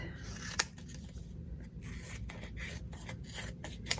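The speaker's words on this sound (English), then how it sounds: "I'm going to cut this out a little bit so I have a little bit of an easier time centering it" Scissors snip through paper to cut out letters for a no-sew pioneer rag doll craft: soft, close, repeated cutting strokes in an irregular rhythm, quiet and with no talking.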